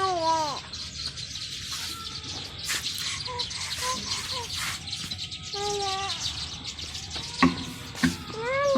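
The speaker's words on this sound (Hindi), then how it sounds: "वो देखो वो भागी चिड़िया भागी भाग गई" Small birds chirp outdoors in a series of bright, rising and falling tweets, some close and clear, others fainter, with light background noise and a few sharp knocks between calls.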